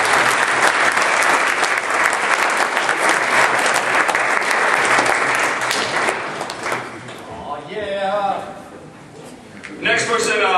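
Loud, dense applause from an audience fills the first six seconds, then thins out as a voice begins speaking over the fading claps near the end.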